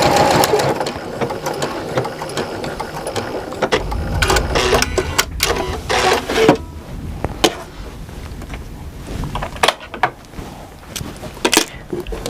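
Sewing machine fitted with an Ultra Glide Foot stitching a lining, running in a fast mechanical patter with brief stops and restarts and a few clicks of handling, close by.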